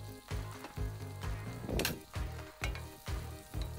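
A shallot and onion mixture fries in oil inside a cast-iron casserole set over embers, a close steady sizzle pulsing in regular louder bursts, with background music.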